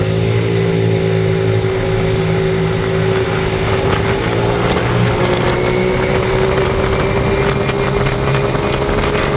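A GY6 150cc scooter engine runs loud and close while riding, a steady droning hum with a rough buzzing edge and wind rush, holding constant throughout.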